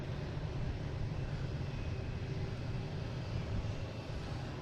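An Aer Lingus airliner flies toward Shannon, its engines a steady broadband roar that holds at an even level from start to finish, with no voices over it.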